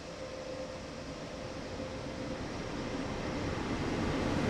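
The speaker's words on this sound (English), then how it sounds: "I hear a train!" A train in Train Sim World on the Main-Spessart Bahn rumbling past as a low, broad roar that grows slowly louder, heard alone at a moderate level.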